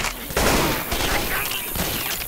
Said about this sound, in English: Shoot the zombies.